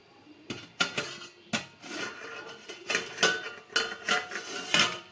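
A steaming pot used to cook bhapa sandesh is opened, giving several sharp metallic clanks and scrapes of the lid and pan spread across the moment, fairly close and clear with no speech.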